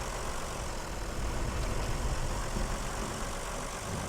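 A tractor engine in the video game SnowRunner on PS4, a steady low idling rumble with little change in pitch, moderately quiet and continuous throughout, with no talking.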